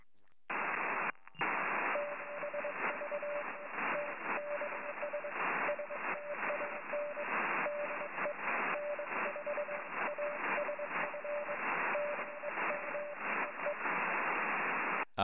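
A Morse code CW signal on amateur radio beeps as a steady tone of dots and dashes, received clearly above a constant wash of loud hiss and static that fills the whole stretch.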